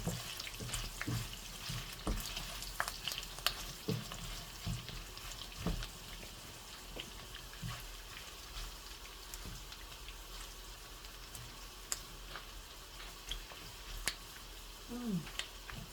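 Pork pieces frying in their own rendered fat for Filipino kinupusan, a soft continuous sizzle dotted with sharp crackles and pops throughout, close and moderately quiet, with no talking.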